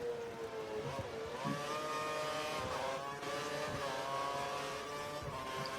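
A Formula 1 car in the video game F1 2013 at the Hungarian Grand Prix, its engine holding a steady high whine that rises and dips slightly with throttle, close and continuous without talk.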